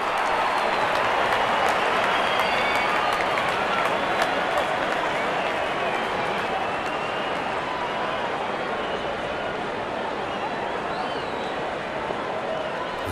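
A stadium crowd at a one-day international cricket match between India and New Zealand keeps up a broad, sustained roar and applause, with commentary running over it.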